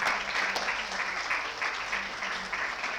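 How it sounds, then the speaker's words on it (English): An audience at a university award ceremony gives sustained, even applause, heard alone with no talk. "A big round of applause."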